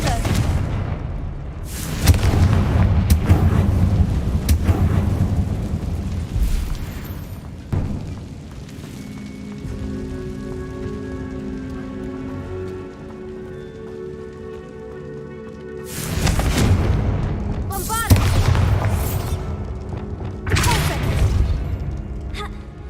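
Confringo fire-blast spells in Hogwarts Legacy burst in several loud booming explosions, clustered early and again near the end, with crackling debris and a quieter tonal stretch in between; a voice talks over parts of it.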